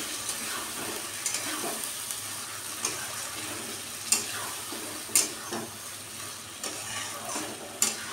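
A sesame, melon seed and cashew paste stirred in a frying pan for a soybean curry, with irregular scrapes and clinks against the pan over a soft continuous sizzle.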